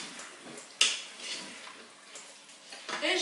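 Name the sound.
stirring tomato paste in a cooking pot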